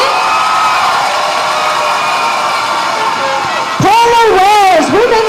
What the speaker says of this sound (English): can we give them a massive cheer?